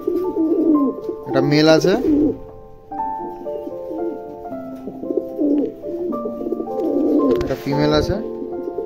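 Black Siraj fancy pigeons, an adult male and female pair, giving deep, rolling coos in two bursts, close up, mixed with someone speaking in Bengali.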